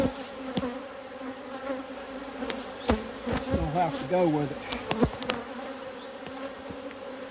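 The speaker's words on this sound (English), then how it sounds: "Move, bees." Honey bees buzz steadily and close during a honey harvest, a dense drone running throughout, with a voice speaking briefly over it and handling knocks scattered through.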